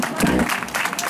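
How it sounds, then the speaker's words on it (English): Audience applause at a church-style gathering, a dense burst of clapping from a crowd, loud and continuous throughout with a few voices mixed in. "Please give him a round of applause."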